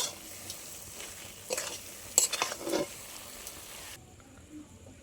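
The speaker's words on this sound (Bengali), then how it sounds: "ছোলার ডালের বড়ার গুঁড়োগুলো দিয়ে দিচ্ছি সিরাপের মধ্যে। হালকা আঁচে খুব ভালো করে পাকিয়ে নেব।" Chickpea dal fritter crumbs stirred into sugar syrup over low heat in a pan, with scattered scraping and soft stirring strokes clustered in the middle, faint and close, no talking.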